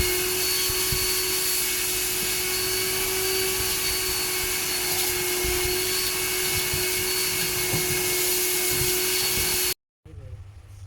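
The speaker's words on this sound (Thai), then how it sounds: "ส่วนของภายในรถช่างจัดการดูดฝุ่นความสะอาดให้ค่ะ" A shop vacuum cleans the interior of a high-mileage Honda City during repair work, a steady loud whine with rough sucking and rubbing, cutting off abruptly near the end.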